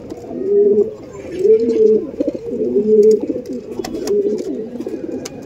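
Several Andhra Madrasi pigeons coo in low, throaty, repeated phrases that overlap steadily, close by, with faint rustling and scattered clicks in the background.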